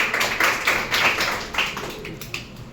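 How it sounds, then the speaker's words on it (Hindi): Students in a class clap for a classmate's exam result, a short burst of light, scattered claps with several quick clusters that thin out toward the end. "चलिए इसके लिए भी छोटा सा ताली आप लोग"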